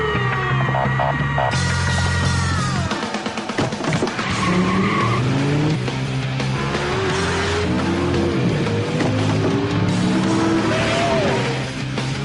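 A sports car races an ambulance on a race track, with continuous loud engine roar, shifting revs and tire squeal throughout, close and dense with no voices.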